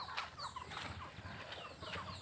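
Several chickens cluck near the front of a house, with short repeated calls close by and steady outdoor ambience, no talking.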